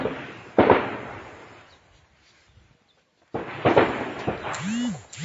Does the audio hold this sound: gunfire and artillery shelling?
yes